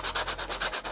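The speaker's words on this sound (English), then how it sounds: "we're just doing a bit of sanding" Rhythmic sanding of a 3D-printed radio-control airplane, a rough abrasive rasp repeating in quick even strokes, close and steady.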